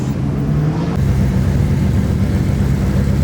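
A rotary-engined race car roars steadily at high revs, loud and close, with a rough, buzzing drone that shifts slightly about a second in, at a motorsports event in Monterey.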